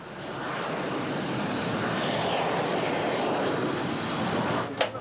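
An Alpha Jet military aircraft passes, its jet engine a broad, steady roar that swells and holds for several seconds before fading, with no talking.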